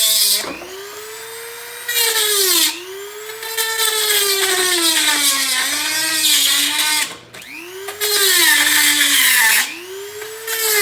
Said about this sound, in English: I just got to get in there with the Dremel